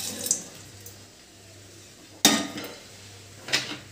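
Fried paneer is added to cooked masala in a pan, heard as two brief metallic clatters of utensil against pan over quiet kitchen background hum, with no talk.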